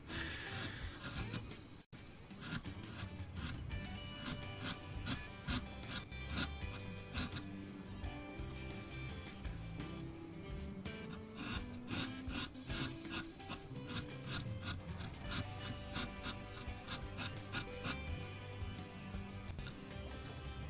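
A wood carving gouge cutting into a carved wooden owl, giving close, continuous rasping and scraping strokes in a steady rhythm with no talk.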